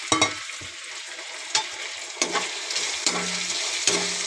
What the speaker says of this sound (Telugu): అల్లం తెల్లగడ్డ పేస్ట్ కూడా బాగా వేగిన తర్వాత ఇదిగోండి టమాటాలు వేస్తున్నాను